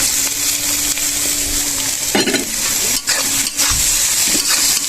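Beans and carrots go into a hot frying pan with rice, producing a loud continuous sizzle with stirring clatter and a few scraping knocks, no talking.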